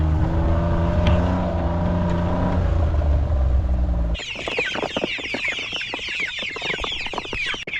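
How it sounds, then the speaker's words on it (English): Some thirty young chickens on a small farm, moved out to bigger coops, give a dense chorus of peeping and clucking close by, preceded by a low engine-like drone that cuts off partway through. "we need to move out these 30 chicks"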